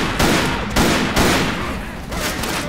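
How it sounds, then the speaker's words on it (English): Hunting rifle with scope, modded to look like an M14, fired in Left 4 Dead 2: several loud, close gunshots in quick succession, each a sharp crack with a short decaying tail. "It says hunting rifle with scope, but really, I got a mod to make it look like M14."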